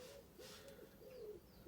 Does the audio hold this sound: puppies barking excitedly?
no